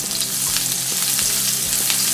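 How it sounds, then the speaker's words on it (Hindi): Green chillies sizzle hard in a tablespoon of hot oil in a kadai: a loud, close, continuous crackle with a few sharper pops, with no talking. "ऑयल पे हम पहले ये हरी मिर्च डालेंगे ऑयल में"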